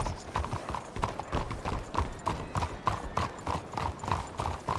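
A horse's hooves clip-clop in a steady walking rhythm in a Wild West roleplay video game. The evenly spaced hoofbeats are close and clear over a low background.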